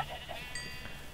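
A short, faint sheep bleat from the Minecraft video game, a single wavering call heard alone.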